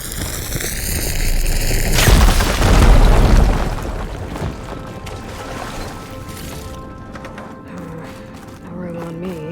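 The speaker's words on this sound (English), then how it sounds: "Should be able to blow up that fire gleam." Firegleam crystal blown up in Horizon Forbidden West, a sudden heavy boom and a rumbling burst that swell loudly, then fade into crackling debris and a low lingering rumble.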